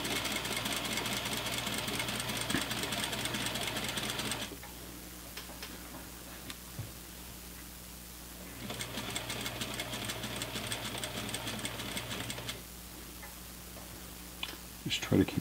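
Sewing machine stitching in the ditch on pants in two long steady runs of about four seconds each, separated by a quiet pause. The whir and needle ticking are moderately loud and close, with faint handling noises between runs.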